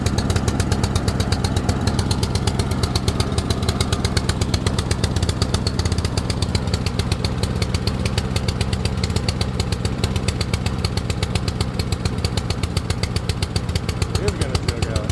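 A Honda engine on a Troybilt TB240 push mower runs steadily, an even rapid close putter that continues without break, with a person talking over it.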